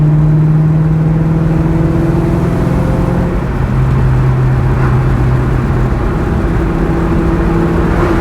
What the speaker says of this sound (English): 4th gear, just moderate throttle.